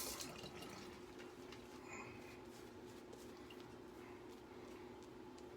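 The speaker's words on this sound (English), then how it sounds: "Add some water on this real quick." Water pours onto a shaving soap in its tub, making a faint steady trickle and splash throughout that sits low under a background hiss.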